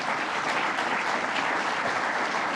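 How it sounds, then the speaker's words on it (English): Steady, even applause from an audience at a government announcement event on a technology campus, dense and continuous from start to finish with no speech over it. "Let's give David Anderson another round of applause."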